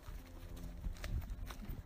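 Horse hooves clip-clopping on a rocky trail during a Massachusetts trail ride, a few uneven thuds and knocks up close, faint amid outdoor rustle.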